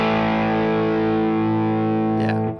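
Distorted electric guitar with Mythos pickups through the lead channel of an Imperial amp, a single loud sustained chord ringing steadily, with a brief pick scrape near the end before it cuts off.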